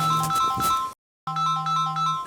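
A melodic electronic phone ringtone plays twice up close, with a short silent gap between the two bursts of tones.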